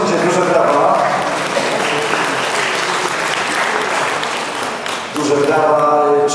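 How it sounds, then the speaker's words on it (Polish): An audience at a knowledge quiz tournament about Olsztyn breaks into loud, sustained applause that fades slightly toward the end while a voice begins speaking over it. "Duże brawa."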